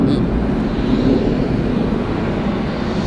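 A FedEx Boeing 767 freighter landing at Atlanta Hartsfield-Jackson airport, a broad, steady jet roar that holds loud and unbroken throughout, with no speech over it.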